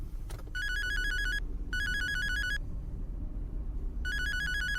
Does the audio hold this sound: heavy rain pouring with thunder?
no